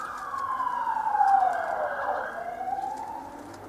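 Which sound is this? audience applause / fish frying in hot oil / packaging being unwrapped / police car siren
police car siren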